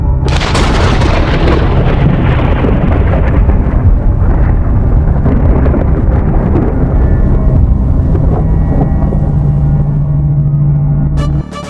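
Loud, continuous rumbling thunder from a storm on a seashore, with heavy booming low end, rolling on for several seconds before cutting off abruptly.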